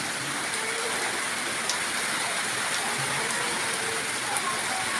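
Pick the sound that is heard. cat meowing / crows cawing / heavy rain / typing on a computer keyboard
heavy rain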